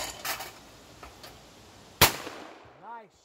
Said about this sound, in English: Go ahead, fire and ready.